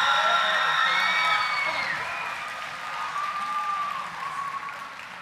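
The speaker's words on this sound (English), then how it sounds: "Another round of applause for the band." Audience applause with cheers and whoops for a high school band at a county honors concert, loud dense clapping and shouted calls that ease off gradually over five seconds.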